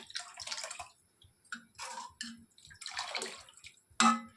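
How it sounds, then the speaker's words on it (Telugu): Water poured into a pot for sesame rasam, coming in several splashy bursts separated by short pauses, with a sharp clink near the end and nothing else around it. "చూసుకొని మనం వాటర్ వేసేసుకోవాలి"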